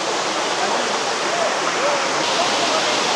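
Waterfall on the Netravathi trek in the Western Ghats of Karnataka, a dense, steady rushing roar of falling water filling the whole moment, loud and unbroken.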